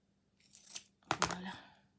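Scissors cut paper for a handmade greeting card in two quick close snips, a brief one followed by a louder, longer crisp cut, in a quiet room.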